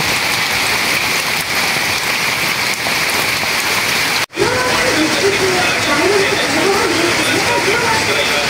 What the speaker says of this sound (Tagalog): medyo malakas na rin po ang ulan